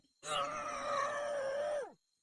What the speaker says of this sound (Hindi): बहुत डर जाता है और चिल्लाने लगता है